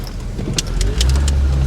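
A 312,000-mile Honda Accord with new coils pulls away, its engine a low steady hum close by that swells as it moves off, with a few short sharp clicks and ticks over the running motor.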